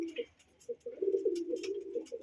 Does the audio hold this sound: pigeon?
yes